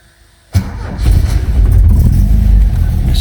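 An Opel Manta GTE, sitting unused for 30 years, cranks briefly and then catches. Its engine settles into a loud, steady, rumbling idle close by.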